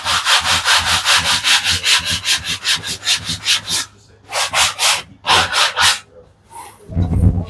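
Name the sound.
sanding thin quarter-inch Luan plywood edges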